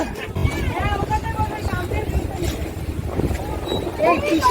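A river ferry's engine at Mawa ghat gives a steady, close low rumble with wind buffeting, while people talk over it throughout.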